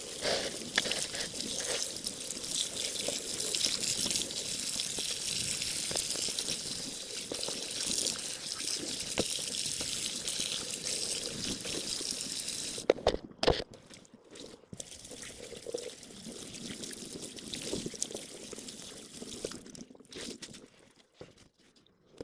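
Water running over hands as a fabric patch is hand-washed to rinse out water-soluble stabilizer: a steady close splashing stream that thins into sparser drips and splashes partway through.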